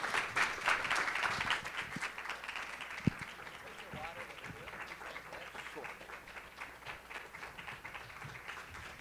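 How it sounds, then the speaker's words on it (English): Audience at a symposium applauds a panel, a broad wash of clapping that starts strong and gradually fades, with some talk underneath. "round of applause for panel one"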